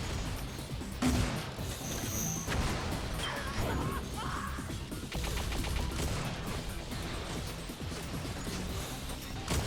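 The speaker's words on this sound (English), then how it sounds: "a couple quick snipes by Zion, though." Sniper gunfire in an Unreal Tournament match, shots cracking amid constant dense game action, explosions and effects, with a commentator talking over it throughout.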